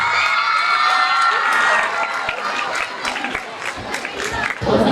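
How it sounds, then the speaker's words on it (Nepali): Students at a school convention applaud volunteers, loud clapping mixed with cheers and children's shouts that rise at first, then thin into scattered claps and calls. "सबैजना विद्यार्थीले आफ्नो ठाउँबाट ताली बजाएर सम्मान गर्नको लागि हार्दिक अनुरोध गर्दछु"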